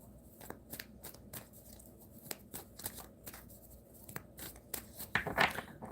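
Tarot cards being shuffled by hand: a quick series of soft riffling flicks and slaps, close and fairly quiet, with a brief rustle near the end.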